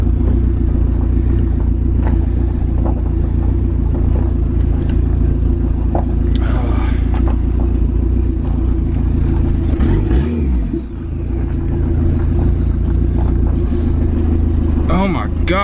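An SRT4-swapped Dodge Caravan minivan rolls slowly with a steady, close engine rumble that never builds to revving, while someone talks over it.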